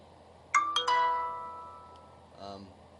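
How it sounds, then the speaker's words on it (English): A Twitter notification rings out from a phone as a quick run of bright chiming tones, followed after a short pause by a softer second chirp, set against low background hum. "Just got a notification from Twitter."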